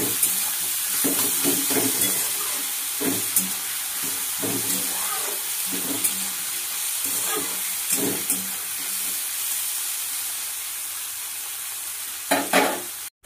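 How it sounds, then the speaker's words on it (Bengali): Green peas fry and get stirred in a pan with turmeric before Maggi noodles go in. Rhythmic scraping strokes about once a second run over a constant hissing sizzle, which thins out after a while and ends in a few louder clatters. "কড়াইশুঁটিটা দিয়ে দেবো এর মধ্যে।"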